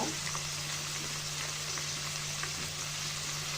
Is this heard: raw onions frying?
yes